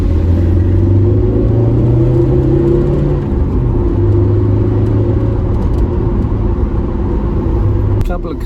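A Toyota MR2 Mk1 pulls under medium throttle and load on a road test, a loud, close, continuous engine drone from inside the car with the pitch climbing and dropping as it revs.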